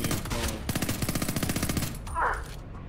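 Rapid automatic gunfire from the video game Homefront: The Revolution, a loud sustained burst of evenly spaced shots that cuts off near the end, followed by a brief higher-pitched effect.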